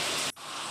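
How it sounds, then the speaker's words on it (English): Steady rain hisses as a dense broadband wash, cut by a short gap partway through before resuming at a similar level. "Rain is the main source of water."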